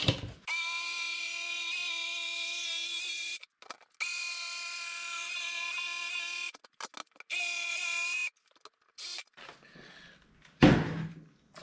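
Jigsaw cutting through wood for a door, a steady close buzzing whine in three long runs with brief stops between, ending with a few knocks and a thump.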